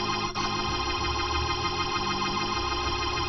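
Sustained gospel keyboard chords held in the same right-hand inversions while a bass line moves underneath, a steady full sound with no talking.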